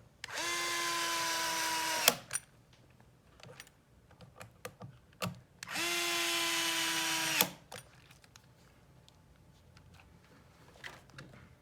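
Power tool driving screws into a compressor platform in two sustained, loud whirring bursts of about two seconds each, separated by quiet handling clicks and taps.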